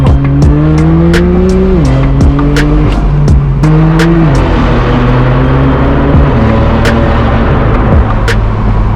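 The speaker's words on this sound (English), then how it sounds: "You guys join me in my straight pipe BMW M4" A loud straight-piped BMW M4 (F82) engine roars up through the gears on mountain roads, each shift dropping the pitch, with a raspy, unmuffled exhaust note up close.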